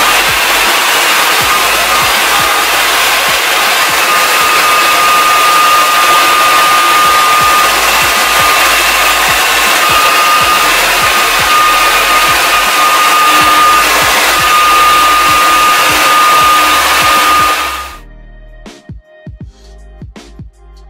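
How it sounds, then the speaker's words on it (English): A hair dryer blowing on lace wig glue to dry it clear, a loud continuous close whoosh with a steady whine that cuts off near the end, followed by a few soft handling knocks. "I'm going to blow dry the first section of the lace glue that I put down until it gets clear"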